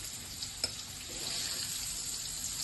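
Pointed gourd and potato frying in mustard oil, a sharp click followed by a steady soft sizzle that grows a little louder, with no talking.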